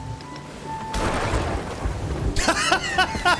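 Thunder from a lightning strike in the pirate game Sea of Thieves, a sudden loud crack and sustained rumble breaking over steady rain, with brief crackling bursts near the end.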